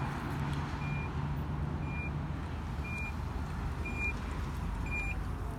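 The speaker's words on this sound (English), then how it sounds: "using your key fob, you can open up the back of the car" A 2019 Infiniti QX80 Luxe 4WD's power liftgate opens by key fob, giving a short, evenly spaced series of high electronic beeps over a steady low vehicle hum.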